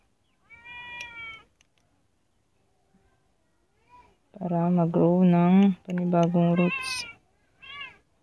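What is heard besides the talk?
cat meowing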